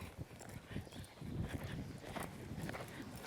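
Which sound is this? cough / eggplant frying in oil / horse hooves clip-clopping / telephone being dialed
horse hooves clip-clopping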